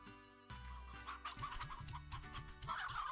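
Chickens in the Slime Rancher video game cluck in a steady run of short, close, repeated calls, layered over a continuous game music bed, with no talking.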